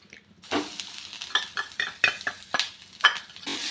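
Poppy seeds and grated coconut sautéing in ghee in a kadhai, with a light sizzle under repeated scraping and clinking strokes of a spoon against the metal pan, close and brisk.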